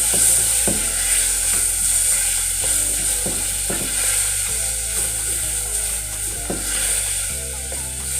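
Tomatoes sizzle in a hot frying pan while bitter melon and chicken cook. A continuous bright hiss of frying runs throughout, broken by irregular sharp clicks and taps. There is no talking.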